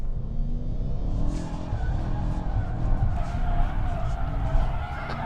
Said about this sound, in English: the big saloon car can light up its rear tires easily